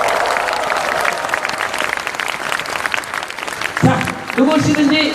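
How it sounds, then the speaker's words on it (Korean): A street crowd at a citizens' open forum in Seomyeon, Busan applauds warmly for the children, loud and sustained, with a voice and cheers rising over the clapping near the end. "아이들에게 여러분 뜨거운 박수를 부탁드리겠습니다"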